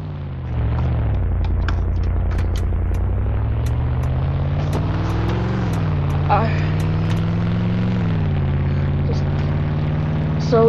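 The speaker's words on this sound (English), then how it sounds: "now we're going in my GMC Yukon" GMC Yukon driving in a Roblox game, a loud continuous engine drone that rises and falls steadily with speed, with a person talking over it through a harsh, low-quality mic.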